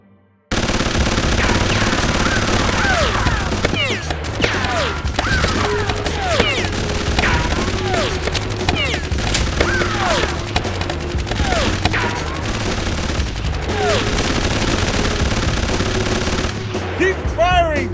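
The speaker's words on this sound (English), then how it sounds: "Keep firing! Don't let up!" Sustained machine-gun fire and scattered shots fill a battle scene in the animated action film Killer Bean Forever, loud and continuous, with faint shouting voices mixed in.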